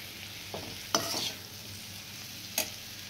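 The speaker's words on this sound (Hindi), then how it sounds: "अब ये मसाले जो है मतलब 5 मिनट के लिए आप इसे हल्का सा पकने दीजिए।" Paneer and capsicum masala sizzles softly in a pan under a constant low frying hiss, while a few brief stirring scrapes stand out close by.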